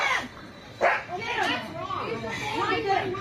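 A dog barking and yelping after employees during a confrontation, sharp barks and whimpers mixed with people shouting over it.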